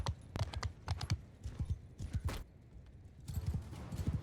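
A horse gallops in Mount and Blade II: Bannerlord, ridden by a horse archer charging ahead into battle. Fairly quiet, rhythmic hoofbeats thud in quick clusters with a brief lull midway and no voices.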